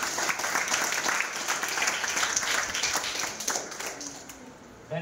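An audience claps at a school essay and drawing competition event in a village hall, steady moderate applause that tapers off near the end, with some voices mixed in.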